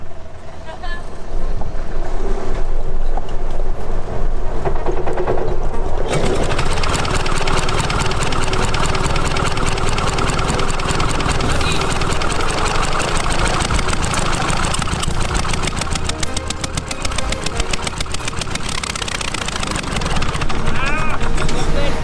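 An old SIMA tractor engine with its hood panels removed, cranking and laboring to start, a loud continuous mechanical roar that builds and runs on steadily close by, with someone talking over it.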